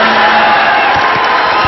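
A dense crowd cheers and roars steadily at a women's volleyball finals match between Vietnam and the Philippine Army, loud and continuous throughout, with scattered shouts rising above the din.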